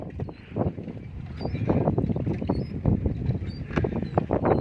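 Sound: wind on a boat

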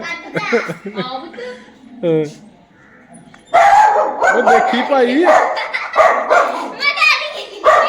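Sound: dog barking

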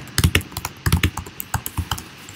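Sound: typing on computer keyboard

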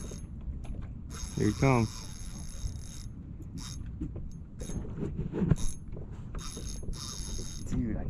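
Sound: fishing reel drag and ratchet while reeling in a fish

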